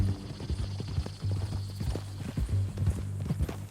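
Horse hooves clip-clop steadily at close range in a Red Dead Redemption 2 ranch scene, the rhythmic thuds carrying through the whole stretch with no one talking.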